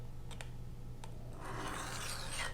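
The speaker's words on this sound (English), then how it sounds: "Because what I'm doing this time is I'm smoothing out everything that I just took off." Knife edge being smoothed on a sharpening stone, a few faint clicks first, then a soft continuous scraping rasp building up close, with no voices.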